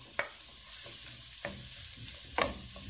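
Onions frying in a pan, a faint steady sizzle broken by several sharp utensil clicks and scrapes as they are stirred.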